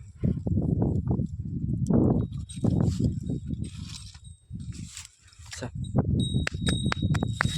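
Heavy, irregular buffalo hoof steps thud and shuffle close by, with a bell jingling intermittently and soft clanking in the background.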